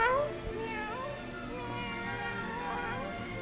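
A man imitates a cat's meow with his voice, producing a drawn-out, wavering nasal cry that runs close and steady for over three seconds.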